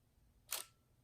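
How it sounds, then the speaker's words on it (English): A single soft, quiet shutter actuation from a Nikon D3500 DSLR set to its quiet shutter mode, one brief muffled click-whoosh lasting about a quarter second against near silence. "it takes a picture when you press the shutter, and it doesn't complete the motion of the internal shutter mechanisms until you release the shutter"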